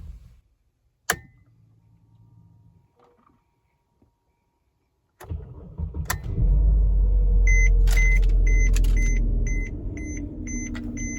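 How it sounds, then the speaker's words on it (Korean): A Mercedes-Benz E300 W212 (early model) starts up after several sharp clicks and door thuds. The engine then settles into a steady idle, and a repeating electronic chime beeps over it. No one speaks. "이제 차량에 탑승한 뒤 시동을 걸고 에어컨을 틀어보았습니다."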